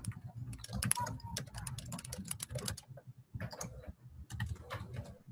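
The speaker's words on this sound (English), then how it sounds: "what I can do is keep texting, keep writing like this" Typing on a computer keyboard, quick irregular bursts of close, crisp key clicks with short pauses between runs.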